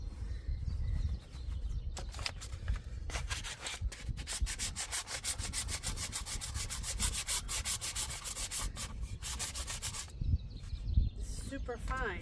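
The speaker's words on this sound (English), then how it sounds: "Let's go into the workshop real fast and sand this down smooth." Very fine sandpaper rubs across wood in a workshop, a steady dense scratching of rapid back-and-forth strokes that holds close and loud for most of the stretch before briefly stopping near the end.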